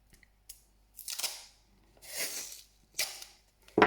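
A small strip of adhesive tape is torn off a roll, heard as several short dry ripping bursts close up in a quiet room, with a sharper snap at the very end.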